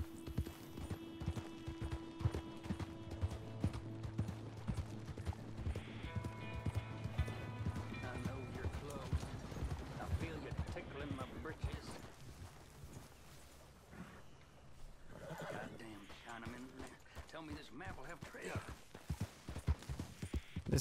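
Horse-drawn carriages roll past in Red Dead Redemption 2, hooves clip-clopping in a steady rhythm throughout, with occasional creaks and faint voices in the mix.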